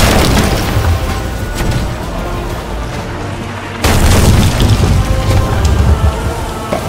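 Ship cannons firing in the Sea of Thieves pirate game, heavy booms in rapid succession over a dense rumbling wash of sea and battle noise, loud and close with a sudden surge halfway through.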